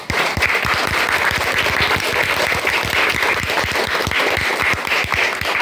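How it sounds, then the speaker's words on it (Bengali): A member organisation's audience gives loud, dense, sustained applause, with many hands clapping continuously and close by for several seconds. "সবাই হাততালি।"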